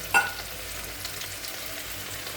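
A paste of ground ginger, cumin and chili with coriander powder frying in a pan, a soft steady sizzle opening with a brief louder clink, then settling into a low, even crackle.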